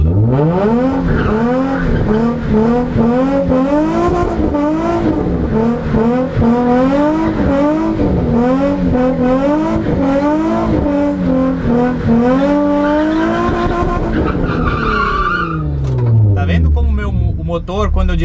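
A car drifting with its engine revving hard in long rising and falling sweeps and tires squealing, loud and close for most of the stretch before easing off near the end, with voices talking over it.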